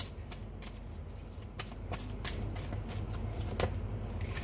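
Tarot cards shuffle with a steady papery riffle and soft flicks, punctuated by a few sharper snaps as cards are drawn, close and moderately quiet with no talk.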